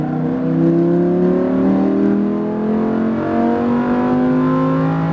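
A Lamborghini Huracan pulls hard at full throttle on a track, a loud, steady engine roar that climbs smoothly in pitch over several seconds, heard close up with no talk.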